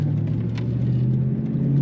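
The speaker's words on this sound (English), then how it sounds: "This car starts up right away, runs nicely right away." A 1996 Ford Mustang GT with a five-speed manual idles steadily, a low, even engine hum with a smooth, continuous rumble heard up close.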